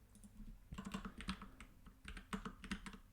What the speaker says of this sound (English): I'm going to type out my domain